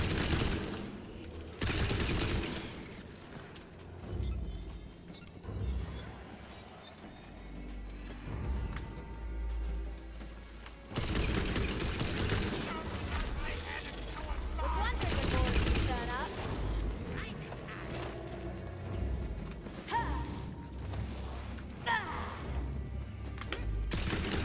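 Rapid machine gun fire in the fantasy shooter Wonderlands comes in several loud bursts over a busy, continuous mix of game noise.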